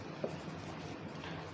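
Chalk or marker strokes on a classroom board during a chemistry lesson, a short quiet scratch of writing with one brief tap near the start, no talking.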